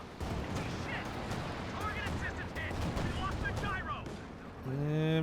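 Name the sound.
tank battle gunfire in a World War II strategy video game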